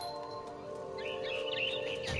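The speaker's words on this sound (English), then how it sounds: "All I cared about was eating that mama bird." A mother bird chirps in the video game What Remains of Edith Finch, a cluster of thin, faint tweets rising over a soft, steady game soundscape.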